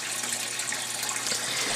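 An aquaponics pump pushes water into a grow bed and the overflow spills back into the fish tank, making a close, continuous rushing gush with no talk.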